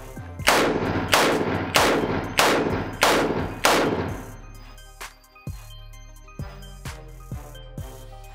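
.38 Special handgun firing 124 grain +P ammunition, about seven loud, sharp shots at a steady rhythm, then several more spaced shots that sound more distant, each with a ringing tail.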